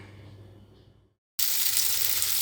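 Macaroni frying in a pan on a home stove, a soft crackle that breaks off briefly, then returns as a loud, steady, close hiss of sizzling oil.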